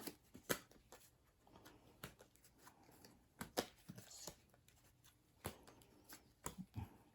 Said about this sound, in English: So you shuffle up the deck.